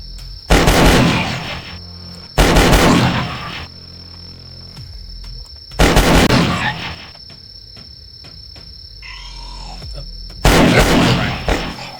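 Gunfire in the video game Last Stand, with four loud, sharp bursts of shots spaced a few seconds apart over a steady high-pitched game tone and quieter background sounds.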